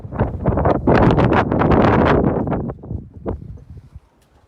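Strong wind gusting through open doors of a long barn venue overlooking a valley, roaring and buffeting loudly against the microphone for a few seconds before dying away.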